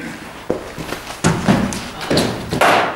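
Cricket bat striking balls during batting practice: four solid, fairly close thuds spaced irregularly over a steady outdoor background hum.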